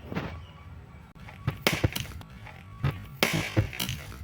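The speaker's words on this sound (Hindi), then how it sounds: "अपने इन पटाखों को लॉन्च करते हैं, देखते हैं कैसी आवाज़ होती है" Handheld firecrackers launched outdoors give several sharp pops and whooshing bursts in quick succession, fairly close, with rustling in between.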